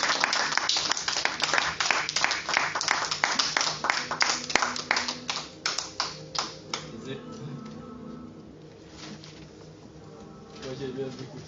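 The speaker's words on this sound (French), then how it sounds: "on acclame très fort pour la gloire de Dieu" A church congregation applauds loudly for the glory of God, a dense run of clapping that gradually thins and fades to scattered claps and murmuring voices.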